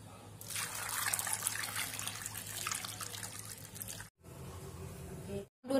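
Water pours over cut olives in a pot before boiling, a steady close splashing trickle for about four seconds, then a brief pause and a shorter pour.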